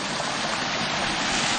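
Broadband rushing roar of a large waterfall dropping down to a river at John Bryan State Park, constant, close and loud, with no voices.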